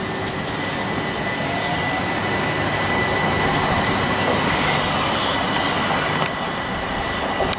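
A Class 377 electric train pulls away from Southease station on the Seaford branch line, a steady, loud rolling rumble with a high whine holding throughout, close by and with no voices.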